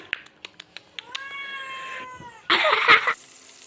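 A house cat meows up close, first a few short clicks, then a drawn-out meow and a louder, harsh caterwauling cry at the end, with no talking.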